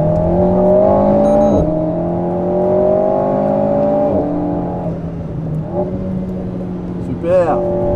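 A 500 hp Lotus accelerates hard around a race track, its engine note climbing steadily through the gears with clear upshift drops, heard from inside the car while an instructor talks over it.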